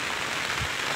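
Heavy rain keeps pouring in a loud, close, dense roar of drops pattering on surfaces, continuous across the brief moment with no talking.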